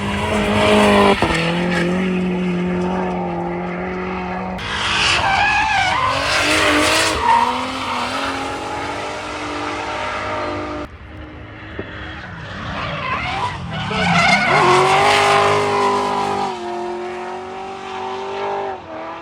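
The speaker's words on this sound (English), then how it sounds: "These cars are all competition cars." Loud competition drift cars' engines roar and rev hard while tires screech and squeal in long skids, sustained and close throughout, at Castle Combe circuit.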